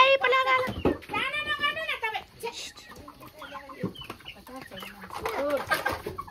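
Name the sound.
chicken clucking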